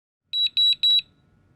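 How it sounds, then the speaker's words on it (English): A lux light-meter detector emits a series of short, high electronic beeps in quick succession, about six clean tones close and clear against near silence. "If the lux detector beeps at least 3 consecutive times,"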